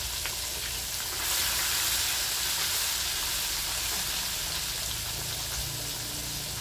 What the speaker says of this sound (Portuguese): vamos deixar ele fritar esses quatro pedaços primeiro